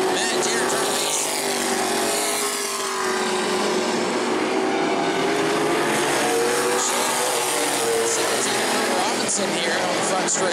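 E-Mod race cars at New Smyrna roar past in a loud, continuous engine drone with shifting pitch, a commentator talking over the racing throughout.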